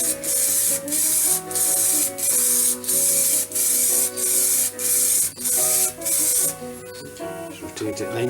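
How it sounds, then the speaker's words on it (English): Spray can of melamine lacquer laying down light coats in a rhythmic series of short, close hissing bursts with brief gaps between them, then a few quieter handling sounds after the spraying stops. "spray on melamine lacquer. Again, a couple of light coats."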